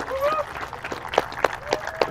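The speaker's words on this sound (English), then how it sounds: "He gets a round of applause from the crowd." Scattered crowd applause for pool player Keith Warren at the 2015 Mad City Open, sparse individual claps popping out at irregular intervals, fairly near, with brief voices mixed in.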